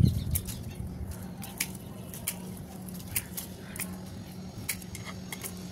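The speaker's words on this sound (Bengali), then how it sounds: "আওয়াজ শুনতে পাচ্ছ? টিয়া পাখি একা একা করে দৌড়াচ্ছে।" Soft rustling and brief flutters of a parrot's wings as it moves about, with light scratchy patters at irregular intervals, close and quiet over a low steady hum.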